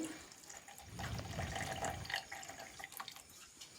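Rinse water swished in a blender jar pours into a jackfruit seed saaru, a faint, brief splash and trickle heard alone against quiet surroundings.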